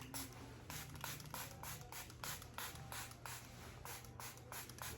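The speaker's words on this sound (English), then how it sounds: "And I'm just gonna spray my face." Water misted onto a face from an old spray bottle, a rapid series of short, close hissing spritzes repeating at a steady rhythm under a faint background hum, with no talking.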